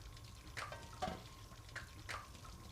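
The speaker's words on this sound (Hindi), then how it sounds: "ये खाना पका रही हो या जंग लड़ रही हो बर्तनों से?" Pots and pans clank during home cooking: four sharp metallic knocks come at irregular intervals over a faint, steady sizzle of frying, with no voices.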